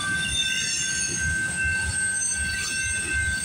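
Passing CPKC freight train with loud, high-pitched wheel squeal ringing over a low rumble of rolling cars, close by and continuous.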